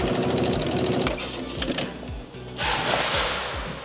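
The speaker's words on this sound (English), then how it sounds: "So this is our sewing process." An industrial sewing machine in a large furniture factory runs in rapid mechanical bursts, a fast rhythmic needle chatter that starts and stops, with a brief louder hum near the end amid workshop noise.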